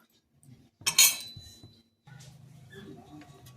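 Raw mango pieces are stirred in a pot of boiling water, a spoon clanking and scraping against the metal pot in a loud burst, followed by softer bubbling and light clinks.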